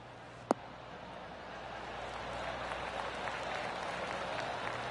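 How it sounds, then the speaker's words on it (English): Golf crowd in the video game PGA Tour 2K23 breaking into steady applause after a sharp tap, the clapping swelling into a sustained, moderately distant wash. "That deserves a golf clap."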